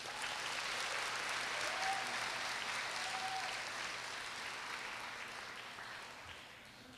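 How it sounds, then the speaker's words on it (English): Sustained audience applause at a Korea University graduation ceremony, a broad, even wash of clapping that fades gradually toward the end, heard faintly from a distance. "Please give him a round of applause."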